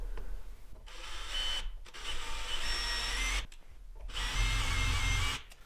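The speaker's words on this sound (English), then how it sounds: "This drill bit's about as sharp as a pebble" Power drill with a dull bit grinding away at a workpiece, a steady whirring drone that stops and restarts in several bursts, fairly close and alone without talk.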